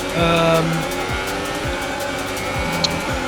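F1 race cars in a video game race and overtake, high-pitched engine whines rising and falling as several cars sweep past in quick succession, with a brief squeal near the start.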